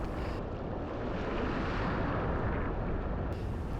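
A kitefoiler plunges into the sea in a rush of splashing water and surf, with constant wind buffeting the microphone throughout, close and loud without any talking.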